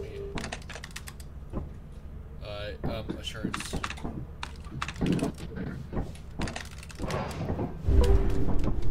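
Rapid keyboard typing on a terminal in Lethal Company, a steady run of close, crisp key clicks with a person talking over it.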